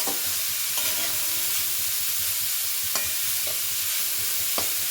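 Carrots, peas and other vegetables for momo filling sizzle and fry in a pan, with steady frying hiss and a few scraping strokes of a spoon stirring them, close up and alone.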